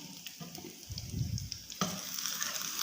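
Chapli kababs made from Qurbani meat frying in a pan over a low-medium flame, a soft steady sizzle with a brief louder burst of spattering partway through and no talking.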